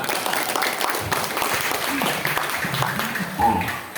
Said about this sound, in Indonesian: Aplaus buat beliau dulu.